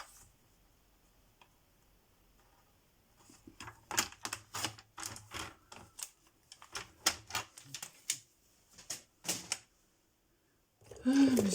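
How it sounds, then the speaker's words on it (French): Edges of a paper accordion card being scraped by hand, a close series of short dry rasping strokes in quick irregular bursts, then a brief pause and a final rustle. "Et je vais gratter les bords, comme ça vous allez voir."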